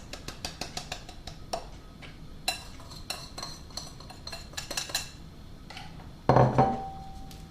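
Soft butter and icing sugar are mixed in a bowl, with a run of quick, light clicking and tapping strokes and a louder clatter near the end, no talk.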